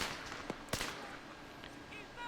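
An RPG is fired at a BTR armored vehicle in a military video game, heard as a couple of sharp, fairly distant blasts over a steady low background, followed by faint, high whistling tones.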